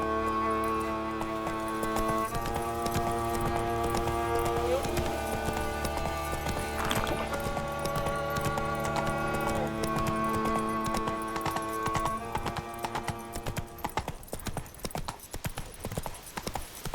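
In The Witcher 3, the horse Roach gallops in a steady, fast clip-clop rhythm of hooves, close and continuous, over a dense layer of game music and ambience.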